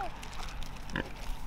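A pig in rural Quang Binh, Vietnam, eating a snack pulled from a packet, gives a short grunt amid low background noise; the sound is quiet and brief.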